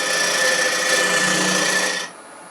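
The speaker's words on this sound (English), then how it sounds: "Now we'll just bring this scraper in." A scraper on a wood lathe cuts a turned wooden jewelry box blank, giving a loud, steady rasping hiss over the whir of the spinning lathe that cuts off abruptly near the end.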